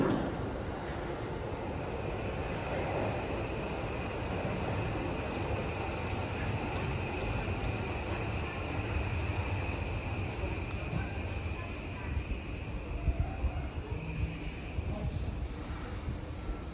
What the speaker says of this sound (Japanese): 新木場行きの到着です